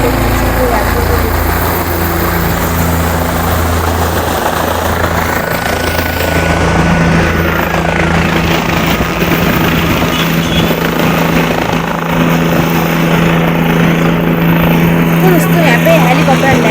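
Helicopter landing at a helipad on the Kedarnath pilgrimage route in the Himalayas, a steady rotor and engine drone holding throughout under nearby people talking.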